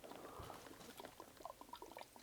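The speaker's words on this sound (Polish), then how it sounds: "Zobaczmy, wylejmy go sobie." Coolant fluid poured out of an AiO liquid cooler: a faint, close trickle and glugging splash of liquid with small irregular drips and bubbling, quiet throughout.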